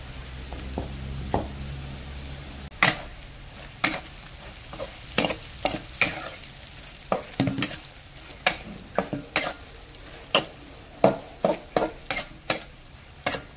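Garlic paste with cumin frying and being stirred in a pan, a steady sizzle broken by repeated sharp scraping strokes of the spoon at an irregular rhythm, close and clear with no talking.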